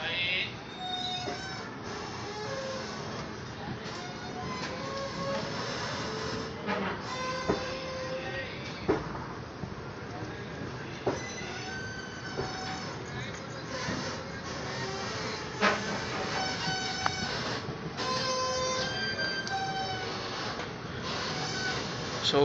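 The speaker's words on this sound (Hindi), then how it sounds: "सो 35 मिनट्स के होल्ड के बाद ट्रेन यहाँ से चल चुकी है" The Mussoorie Express pulls away after a long hold, its low rumble and clanking continuous and fairly loud, with scattered creaks and knocks over the top.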